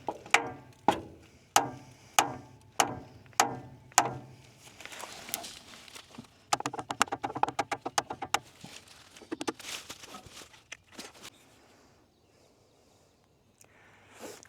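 Sharp metallic smacks struck against a truck's starter motor from underneath the vehicle, a regular run of about seven blows followed by quicker irregular clanks and knocks that fade out toward the end.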